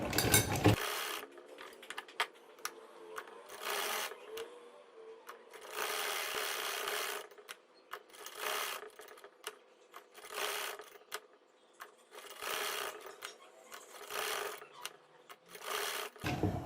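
A sewing machine stitches a zigzag seam on a poncha, the trouser cuff, running in repeated bursts of rapid mechanical chatter, some a second or two long, separated by short quiet pauses, loud and close.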